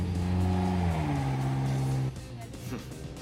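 An engine revs high and holds a strong tonal drone, then abruptly drops away as a car pulls off, leaving a quieter, fading motor sound.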